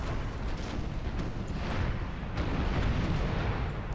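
Dense, continuous rumble of massed artillery fire from the video game Empire: Total War, heavy cannon booms blurring into a steady loud roar with no talk.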